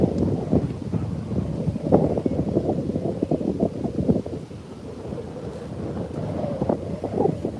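Steady, blustery wind buffets the microphone outdoors at Sutton Scarsdale, a continuous low rumble with gusty surges throughout and no one speaking.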